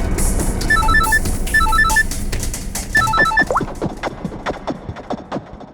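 A telephone rings with an electronic trilling ringtone in three repeated bursts. The bursts are loud and close, and knocking and clattering thumps continue after the ringing stops.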